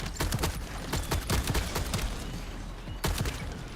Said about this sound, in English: Reloading. Swapping mags.